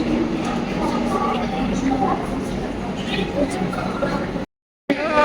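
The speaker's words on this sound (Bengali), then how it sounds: "এই যে ট্রেন গীতাঞ্জলি" A busy station platform with the Gitanjali train rumbling nearby, a dense murmur of voices, and a clatter of movement before a brief cutout.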